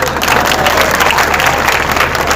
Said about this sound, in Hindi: यहां बजाओ तालियां।